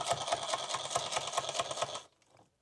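A machine stitches leather pouch pieces with a fast, even mechanical chatter for about two seconds, then stops abruptly into near silence; close and moderately quiet.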